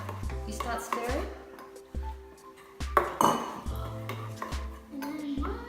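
A slime mixture is stirred in a bowl in a home kitchen, giving repeated clinks and scrapes of a utensil against the bowl while people talk over it.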